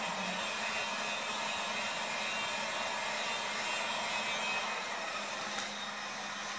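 A heat gun blows a steady, continuous roar while warming vinyl wrap on a car door handle, holding an even loudness throughout with no pauses or talking.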